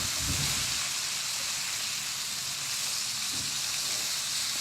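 Soft shell crabs crisping in hot oil in a pan, a continuous broad hiss and sizzle at an even level, close and steady with no voices.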